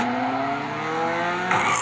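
A car drifts in the Race Kings racing game, its engine droning loudly and steadily before a sharp tire squeal and skid near the end of the short burst.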